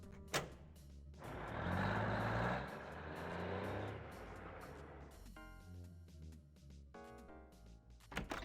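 An animated cartoon truck gives a loud engine roar that swells and fades, then a run of steady, evenly spaced electronic beeps near the end.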